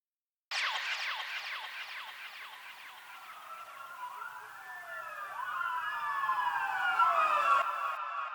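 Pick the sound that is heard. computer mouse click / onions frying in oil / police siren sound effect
police siren sound effect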